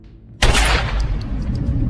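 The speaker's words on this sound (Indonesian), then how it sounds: "Tembakan yang Jack lepaskan sayangnya tak ada yang tepat sasaran." Gunfire erupts abruptly in an action film scene, a loud burst followed by a dense sustained rattle of shots with sharp cracks and echoing debris.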